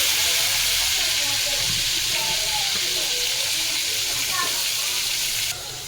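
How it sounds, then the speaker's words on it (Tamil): Mutton pieces frying in hot oil, a loud continuous hissing sizzle close up with light bubbling crackle, easing slightly at the very end. "நல்லா எண்ணெயிலேயே வந்து கொஞ்சம் செவக்க வச்சு எடுத்துக்கலாம்"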